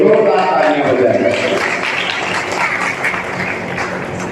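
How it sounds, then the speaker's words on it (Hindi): An audience at a school-kit distribution event for disabled children's society applauds loudly, a dense, continuous wash of clapping that stays strong throughout, with voices mixed in. "और जोरदार तालियां हो जाएंगे"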